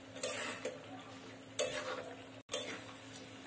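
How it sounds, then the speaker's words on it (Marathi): Onion-garlic masala paste frying in oil in a pan over a full flame for an egg curry, with a steady sizzle broken by several sharp scrapes and clinks of a spoon stirring against the pan, close up. "भाजून घ्यायचं आहे, फ्राई करून घ्यायचंय तेलामध्ये मसाला"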